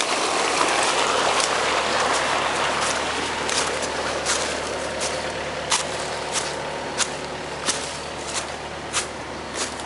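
Pond water gushes steadily out of a 4-inch gravity siphon pipe, a loud continuous rushing splash, broken by a few sharp clicks and knocks.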